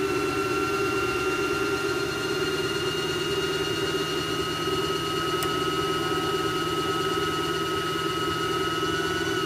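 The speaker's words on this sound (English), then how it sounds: "You can press really hard and the bobbin will fill." A sewing machine winds thread onto a bobbin with a steady, continuous motor hum and whine, close and even throughout with no pauses.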